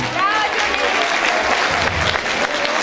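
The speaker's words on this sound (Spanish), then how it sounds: "Un aplauso para la profesora Julie Torres." Audience applause for a dance teacher at a Women's Day celebration in Sutatausa, a steady dense clapping that holds for about three seconds, with faint voices mixed in.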